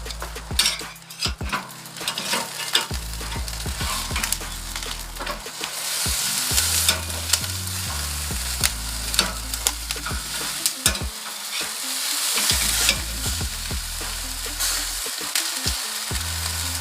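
Jerk chicken thighs sizzle loudly and steadily on a Kamado Joe Classic grill, with repeated scrapes and clinks of tongs or a spatula as the pieces are turned, and no speech.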